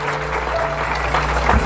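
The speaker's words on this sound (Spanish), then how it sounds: "Dele un fuerte aplauso a Dios, hermano." A church congregation at a Spanish-language service claps together in a short burst of dense, steady applause, close and fairly loud.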